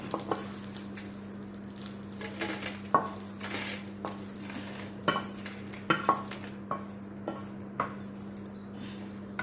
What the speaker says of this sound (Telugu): ఎండుమిర్చి వేగేంత వరకు కలుపుకోవాలి